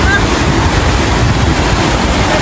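A rushing river roars as a broad, continuous wash of loud water noise close by, with wind buffeting the microphone and no breaks.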